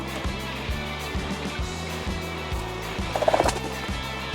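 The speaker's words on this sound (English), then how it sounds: "Here comes a turkey." A turkey gobbles in a short, sharp burst near the end, coming home to roost at an Alaska homestead chicken run. It sounds over a steady, low, rhythmic rumble.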